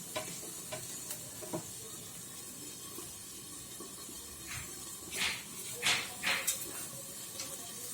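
Tandoori chicken searing in oil in a pan on the stove makes a faint, steady sizzle, broken by a few sharper hissing spurts and soft utensil taps near the end.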